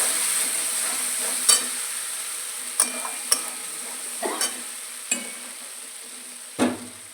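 Potatoes go into a pan of peas frying with spices, a low steady sizzle broken by several sharp clinks and scrapes of a spoon against the pan, with one heavier clatter near the end.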